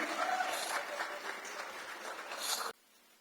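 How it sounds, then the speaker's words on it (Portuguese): A church congregation applauds during a Portuguese sermon, a soft continuous patter of many hands clapping at a distance that stops abruptly near the end, leaving quiet room tone. "você pode aplaudir ao Senhor?"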